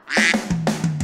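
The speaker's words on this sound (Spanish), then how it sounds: "El pato hace" Three loud nasal quacks in quick succession, close and clear, with no other sounds around them.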